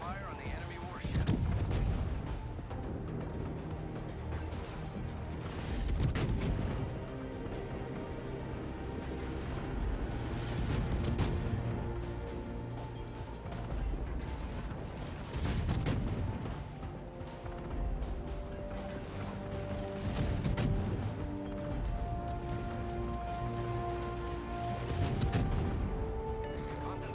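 Naval gunfire from warships in the World of Warships game, heavy booming salvos recurring roughly every five seconds over a continuous engine and music bed, loud and near.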